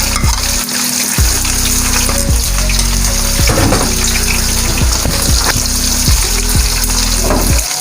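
Chopped ginger and garlic frying with meat for Peshawari namkeen gosht, a loud continuous sizzle with repeated clanks and scrapes of stirring in the pot, no talk.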